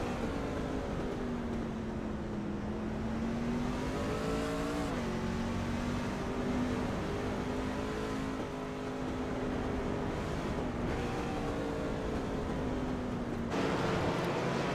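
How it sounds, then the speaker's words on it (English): A race car engine at Mid-Ohio drones steadily at high revs, heard on board, its pitch rising and falling slightly with the throttle before a sharp shift near the end. "You can hear the throttle control really well in these cars."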